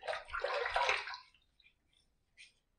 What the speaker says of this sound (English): let's just throw a little bit of water up there, re-lather, and do a second pass.